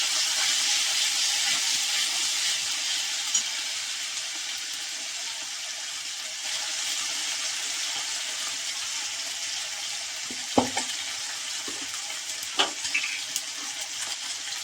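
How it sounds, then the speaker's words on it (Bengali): Ginger paste sizzles steadily in hot oil, making a continuous, fairly loud frying hiss with a few sharp spattering pops near the end. "কারণ আদা বাটাটা তেলের উপরে দিলে একটু জল থাকে, যার জন্য একটু ছিটকে যায়।"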